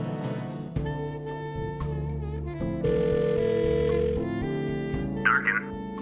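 Telephone dialing in The Blackwell Deception adventure game: a string of short electronic tones at shifting pitches over a steady background music bed, ending with a brief ring-like burst.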